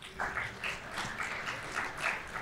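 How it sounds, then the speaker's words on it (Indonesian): Applause from a church congregation at a Sunday service, a steady wash of many hands clapping at moderate volume with a few cheers mixed in, continuing evenly throughout. "Oke, tepuk tangan buat kita semua."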